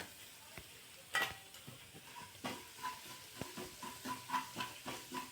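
A coarse-ground masala of ajwain, fennel, whole coriander and cumin is sautéed in a pan, giving a soft, close sizzle with repeated scraping stirs and light knocks at an uneven rhythm.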